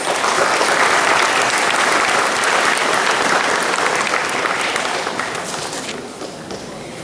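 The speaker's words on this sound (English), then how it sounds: "Please give her a round of applause." Loud, sustained applause from a large audience at a community college graduation ceremony, steady for most of the stretch and thinning slightly toward the end, with no talk over it.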